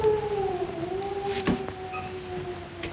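An animal howls in the dark, a long, wavering, sustained moaning tone that slowly slides in pitch, moderately loud with no voices over it.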